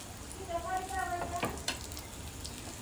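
Barramundi fish fries in oil on a tava with a steady, quiet sizzle, as a voice speaks briefly over it and a sharp click cuts through midway.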